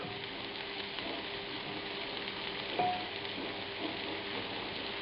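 Swedish meatballs sizzling as they fry in a large pan, a steady close crackling hiss like light rain, with a soft clatter of turning around the middle.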